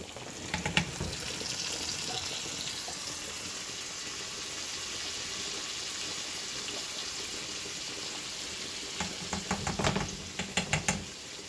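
A soft, steady sizzle of onions and garlic frying in a pan runs throughout, with a few clattering stirs and scrapes near the start and end.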